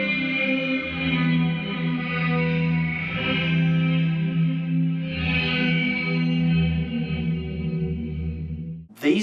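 Guitar played through a Zoom MS-50G multi-effects pedal set to pitch delay and shimmer reverb, sustained chords with a swirling, shimmering, slightly lo-fi wash throughout, ending abruptly.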